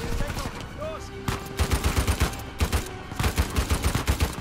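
Rapid repeated gunfire in the action video game Uncharted 4, sharp regular shots in quick bursts separated by brief pauses, loud and close over a busy game soundscape.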